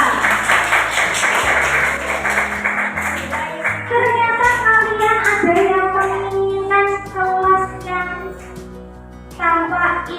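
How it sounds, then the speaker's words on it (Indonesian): Classroom applause for a student, a scattered burst of children's clapping that starts loud and then thins out, mixed with kids' voices and a teacher talking. "Tepuk tangan buat Akila."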